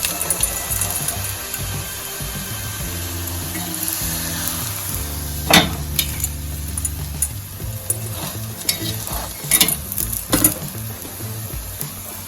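A Kathiyawadi masala rotla, a spiced flatbread, sizzles as it roasts on a pan. A steady frying hiss runs throughout, with occasional scraping and turning clatters toward the end.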